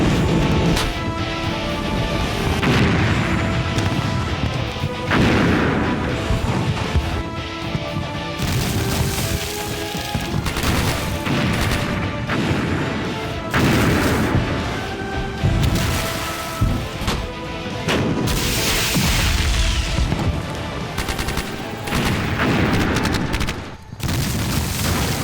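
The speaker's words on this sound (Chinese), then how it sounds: "命令渡船返航，让炮团一营集中火力轰击蓝军，提防阵地。" Artillery bombardment and battlefield explosions from a war film depicting a Red Army versus Blue Army military exercise: dense, continuous rumbling blasts and crashing impacts fill the whole stretch, loud and layered with no pauses.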